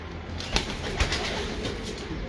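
Pigeons coo softly at a breeder's loft housing Dholu breeder birds, low throaty calls under a couple of sharp clicks or wing taps, with steady background murmur.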